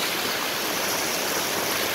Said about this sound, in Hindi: कैसे नहरें चल रही है